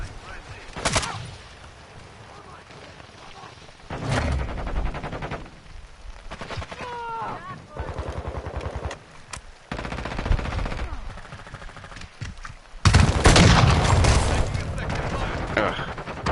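Gunfire in the video game Modern Warfare 2 comes as repeated loud bursts of automatic fire and single shots over continuous battle noise, with players talking between the volleys.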